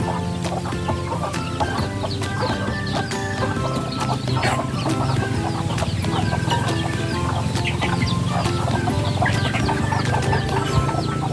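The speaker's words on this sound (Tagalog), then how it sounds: "Yung 4 na pitak na yan ay puno na ng inahin na may mga sisiw." Hens with chicks in a pen on a farm cluck steadily and closely, overlapping soft calls and higher peeps continuing throughout with no talking.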